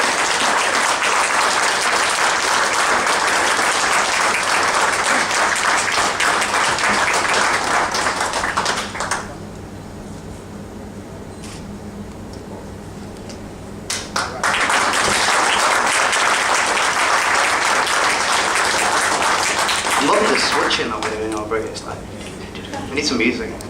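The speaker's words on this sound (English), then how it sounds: "A big round of applause." An audience claps at a volunteer of the year awards ceremony, with two sustained bursts of loud applause separated by a quieter stretch where a voice speaks, the second round fading into further talk.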